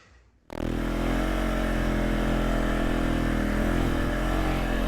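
A 450 ATV on 29.5-inch Highlifter Outlaw tires starts up and is ridden, its engine droning loud and steady close by after a brief quiet moment at the start.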